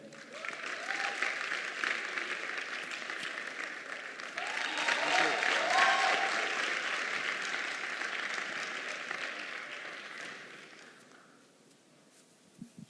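Audience at a grand opening event applauding to welcome a speaker to the stage, a dense sustained wash of clapping that swells midway and then fades out toward the end, with a few scattered voices underneath.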